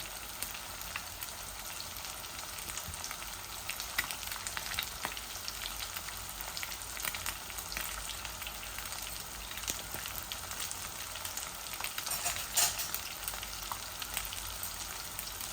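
Fish, Bangladeshi pangas, frying in a pan for a bhuna with green chilies and tomatoes, giving a steady, soft sizzle with faint crackles that runs the whole time without talk.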